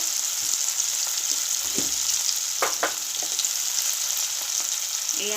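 Two chopped tomatoes frying in hot oil alongside cut green chillies while cooking a fish curry, a steady loud hiss of sizzling with occasional stirring clinks and scrapes, no voices.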